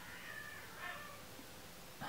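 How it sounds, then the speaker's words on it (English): Cats fighting each other somewhere in a home, heard as faint, distant yowls and meows that rise briefly twice against a quiet room background. "My cats have to be fighting with each other right now."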